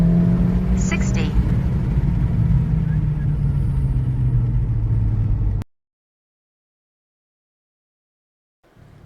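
A Cobb Stage 1 tuned car on a 93 octane tune accelerates during a night pull, a steady close engine drone with rising pitch that cuts off abruptly into silence, then resumes faintly near the end.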